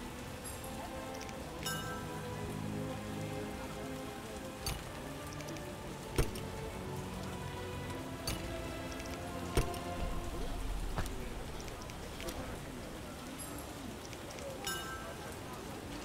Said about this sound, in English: Whoa-wee! Downpour!